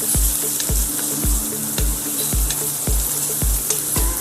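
Chicken fries in a pan in a home kitchen, with an even loud sizzle and regular stirring knocks roughly every half second.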